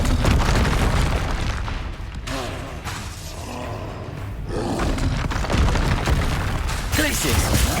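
A Confringo fire spell blasts in the Hogwarts Legacy video game, a loud booming explosion that rolls on continuously amid dense combat noise, with a voice shouting spell names over it.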